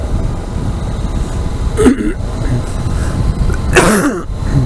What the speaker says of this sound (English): So I figured I'd cough in your ear.